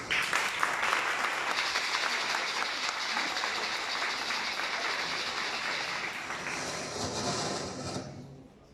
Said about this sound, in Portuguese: Por favor, para ela também a salva de palmas.